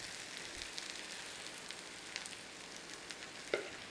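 Quiet, steady sizzling of gravy poured into corned beef hash frying in a pan, with faint crackles and a small clink near the end, no voices.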